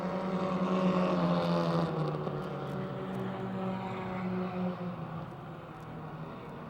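Race cars roaring around the Motordrome Speedway oval during a heat race, a loud continuous engine drone that swells and fades slightly as the pack passes, with no talk over it.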